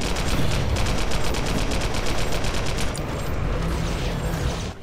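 Automatic gunfire in the video game Global Agenda aimed at a wall, a loud continuous stream of rapid evenly spaced shots that runs nearly the whole time and eases slightly toward the end.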